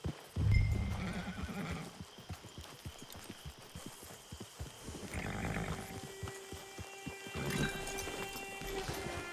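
A horse whinnies loudly at the start in the Red Dead Online video game, followed by a steady run of clip-clopping hooves and further softer neighing, close and clear.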